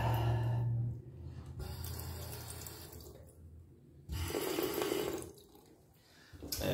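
Water runs from the tap of a 1954 vintage Crane sink in an old church restroom, a close, steady splashing stream that swells and eases in several bursts as the flow is turned on and off.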